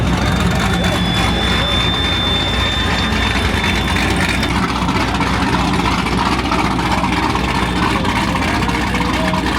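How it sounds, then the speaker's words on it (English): Corvette ZR1 engines idle at a car show in a Walmart parking lot, a loud, steady low rumble with a whining hum on top, continuous throughout, with faint voices in the background. "I hear cars starting up"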